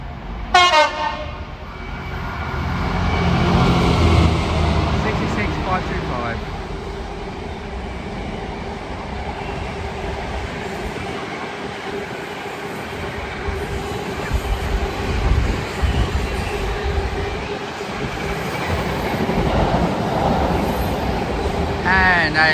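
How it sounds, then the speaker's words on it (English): A Freightliner Class 66 diesel freight train from Felixstowe to Garston passes Nuneaton station on the West Coast Main Line, a loud horn blast then a long, steady rumble of engine and wagons rolling close by. "our final train of the day will be a Freightliner 66 running 7 minutes late, going from Felixstowe north to Garston"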